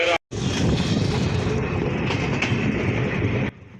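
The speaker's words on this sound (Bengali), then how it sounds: "নীলসাগর এক্সপ্রেস ট্রেনটি ডোমারের উদ্দেশ্যে নীলফামারী ছেড়ে গেল" The Nilsagar Express pulls out of Nilphamari station bound for Domar, a loud, close, steady rumble of rolling wagons with rhythmic wheel clatter that stops abruptly near the end.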